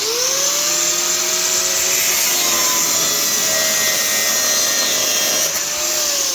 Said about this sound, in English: I'm going to cut that fucking stud off if I can get in with this.